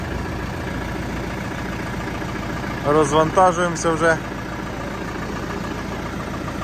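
A steady low tractor engine idle rumbles throughout, with a brief burst of speech partway through over the continuous drone.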